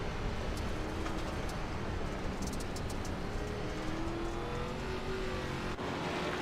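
Loud roar of ARCA race cars speeding around the Knoxville Raceway dirt track, engines droning and shifting pitch as they pass, a dense wash of motor noise.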